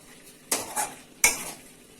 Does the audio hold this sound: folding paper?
no